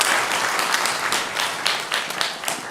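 A congregation in a Sunday morning church worship service breaks into sustained applause, a full dense roar of many hands clapping, moderately loud and steady before easing slightly, with no speech over it.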